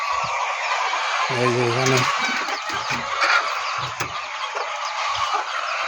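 Chickens cluck and fowl call around a farmyard during morning feeding, with a short run of clucking near the start and scattered calls throughout while a person talks over them.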